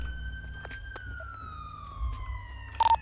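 A police car siren in a GTA RP game wails in a slowly falling tone for a few seconds, moderately loud, then cuts off with a short beeping burst at the end.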